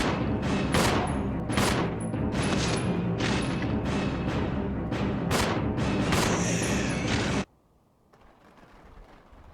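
Rapid gunfire at zombies in Resident Evil Zero, a loud sustained burst of repeated shots at a steady rhythm that cuts off abruptly into near silence.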